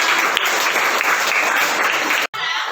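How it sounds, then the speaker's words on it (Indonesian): Loud, dense applause from a fifth-grade class in an Indonesian school, a steady wash of many hands clapping together that cuts off abruptly near the end before briefly resuming. "Beri tepuk tangan yang meriah."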